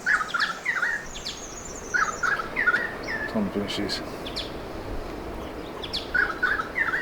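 Small birds chirping in a coastal rainforest campsite at Mungo Brush, New South Wales, with repeated quick tweets near and far while someone talks over them.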